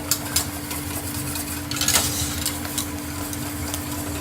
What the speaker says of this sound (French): quand on mélange avec le fouet